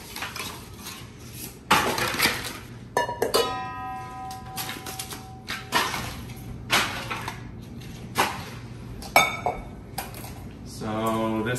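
Le Creuset enamel steel bowls clink and clatter as they are handled and set against each other, with a series of bright ringing taps and scrapes spread irregularly.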